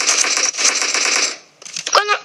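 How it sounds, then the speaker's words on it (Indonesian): Rapid automatic gunfire in the zombie mode of the video game PUBG, a loud sustained burst that stops briefly before a few more shots, with a voice speaking over the end. "Wih, bisa nembak dia."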